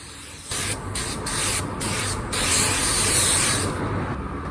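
Light mist sprayed onto a car panel, a steady close hiss lasting a few seconds with brief pulses in the spray.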